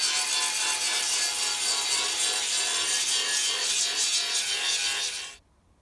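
Steel around a hole in a rusty Land Rover chassis rail is cleaned up with a loud, continuous abrasive grinding that holds steady for about five seconds before stopping abruptly, with no speech.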